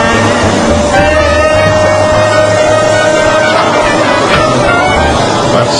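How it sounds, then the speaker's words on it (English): A vacuum cleaner runs continuously with a loud, steady whine and roar, close by, carried over a broadcast line with a faint low rumble underneath. "it's floor 7 for the vacuum cleaning tonight."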